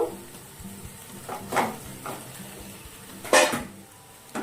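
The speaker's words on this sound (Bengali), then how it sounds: "এটা দিয়ে এখন বেশ কিছুক্ষণ কষে নেব তেল ছেড়ে গেছে এবার ডিমগুলো দিয়ে দেব" Eggs go into a pan of masala frying in oil, bringing a loud burst of sizzling with scraping stirs and clinks of a utensil against the pan, rising and falling in bursts.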